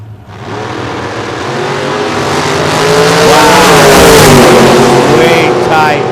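Drag race cars, a 1969 Chevy Camaro and a Chevy Nova, roar loudly off the line together at a season-finals elimination, the engine note building steadily and holding strong throughout.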